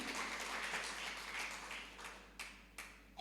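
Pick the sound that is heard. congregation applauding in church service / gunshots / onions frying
congregation applauding in church service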